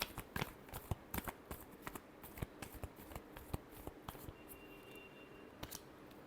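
Tarot cards are shuffled in quiet, close, repeated bursts of crisp riffling and soft slaps, with brief pauses between flurries.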